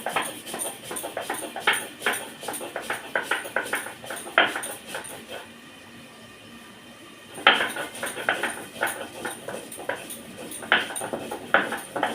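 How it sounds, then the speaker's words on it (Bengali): Mustard seeds ground by hand into paste for a hilsa fish dish, heard as rhythmic scraping and knocking strokes at close range. There is a quiet pause of about two seconds midway before the grinding resumes. "এবার আমি সরিষাটা বেটে নেব"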